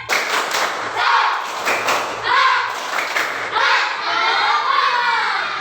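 A school class performs a rhythmic spirit clap, bursts of clapping and thumping in a patterned beat mixed with children's voices, loud and close in the room.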